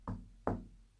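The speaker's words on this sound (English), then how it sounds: "Okay, Spirit, I'm going to knock." Two firm knocks on a wall or door inside a house, close and fairly loud, about half a second apart, each with a dull thud, no talking.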